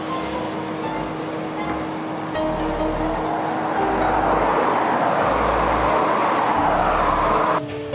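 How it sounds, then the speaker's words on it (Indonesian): Traffic rumbles past on a road, with a steady engine drone and a louder, closer vehicle swelling through the second half as a truck hauling sand or coal goes by, then the sound cuts off abruptly. "Ada truk pengangkut pasir atau batu bara ini"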